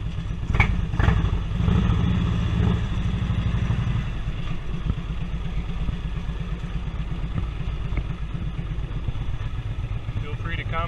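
Harley-Davidson Touring V-twin motorcycle fitted with new dumper exhaust pipes, a few loud revs up front before settling into a deep, loping idle that thumps steadily and close for the rest of the clip.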